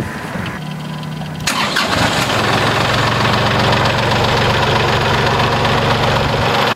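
A tractor engine cranks briefly and then catches after its fuel system has been bled, settling into a loud, steady, slightly knocking diesel idle that runs close and continuous to the end.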